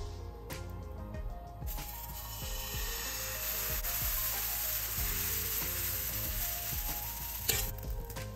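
Ghee poured into a hot pan for uthappam hisses in a steady, close sizzle, with light scraping and ticking clicks scattered through it and no voices.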